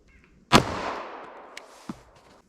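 A single sharp 9mm gunshot cracks into a denim and MDF target, a loud close report followed by a decaying echo, then a faint click and a small second knock.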